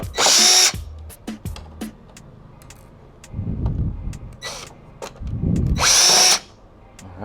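Power drill backing screws out of the front tank panel of a Solaris, two loud whirring bursts at the start and end with quieter clunks and handling in between, close up.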